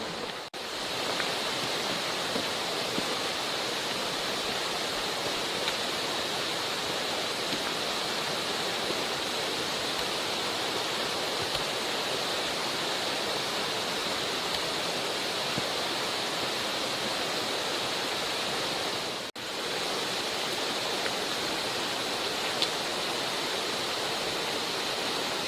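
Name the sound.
large waterfall at the Cirque de Saint-Même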